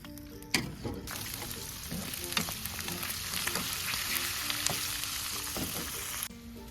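Chicken feet deep-frying in hot oil for dim sum, with a loud steady sizzle and scattered pops and spits throughout, close up, no talking.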